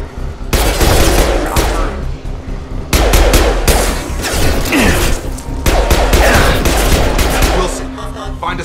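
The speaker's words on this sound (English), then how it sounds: "Firing." Automatic gunfire in the video game Mass Effect 2, loud rapid bursts of shots in three long volleys separated by brief pauses, with mechanical clatter between.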